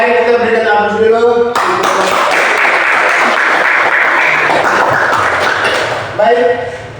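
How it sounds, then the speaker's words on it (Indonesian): An audience of students in a classroom breaks into a sustained burst of dense clapping after a group presentation. It lasts several seconds, with brief speech just before and after. "kita berikan aplaus dulu"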